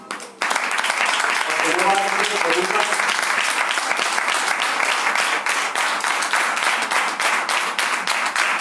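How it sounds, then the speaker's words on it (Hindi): A crowd at a church Bible school in Jalandhar, India breaks into sustained, loud applause, steady clapping that fills the room, with a voice briefly audible near the start. "परमेश्वर के दास पास्टर राजकुमार के लिए भी हम ताली मार देते हैं।"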